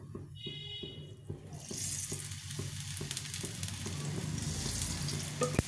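Cauliflower coated in wheat flour goes into a pan, with a few dry taps and scrapes at first, then a loud steady sizzle of oil frying that builds and continues to the end under occasional stirring.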